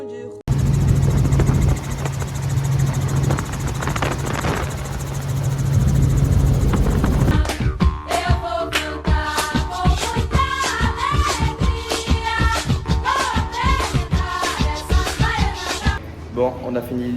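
A steady, loud helicopter engine roar with rotor thumping fills the clip in Rio de Janeiro, later overlaid by rhythmic music with a strong beat.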